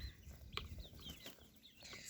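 Free-range chickens around a backyard coop and chicken tractor, with soft clucks and chirps and a brief flutter of wings, faint and somewhat distant against a low outdoor background.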